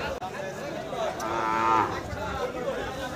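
A bull at a livestock market in Madarganj, Bangladesh, gives one long, loud, close moo in the middle, with crowd murmur and chatter around it.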